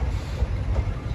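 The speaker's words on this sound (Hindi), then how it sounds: "अभी हम लोग पालीताना रेलवे स्टेशन को छोड़ रहे हैं।" A daily passenger train from Palitana to Bhavnagar pulls out of Palitana station, giving a steady, close rumble of wheels and carriages over low, continuous track noise.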